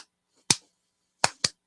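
Three sharp, dry hand claps in a song: one alone, then a quick pair about a fifth of a second apart, crisp and isolated against near silence.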